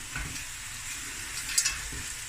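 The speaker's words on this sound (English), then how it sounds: "now we're just gonna stir fry" Cooked rice stir-fried with clam and crab over high heat, a brief, fairly quiet sizzle with a couple of light scrapes and one small clink, no voices.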